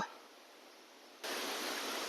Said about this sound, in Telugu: వాటర్ ఫాల్ అయితే నాకు తగలేదండి సౌండ్ అయితే వస్తుంది